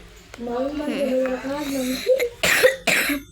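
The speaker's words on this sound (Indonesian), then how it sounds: "Batuk." A voice speaks briefly, then two or three loud, harsh coughs follow in quick succession, close to the listener.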